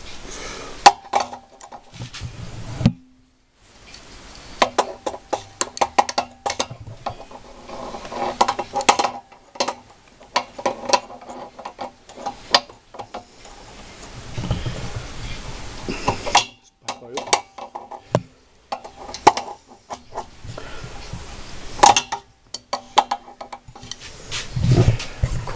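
Metal clinks and rattles of an adjustable wrench being handled while fitting a replacement pressure switch onto an air compressor, in short irregular bursts under occasional speech.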